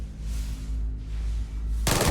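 Gunfire in the video game Starfield, a steady rapid burst of shots over a low rumble, ending in a louder, sharper blast.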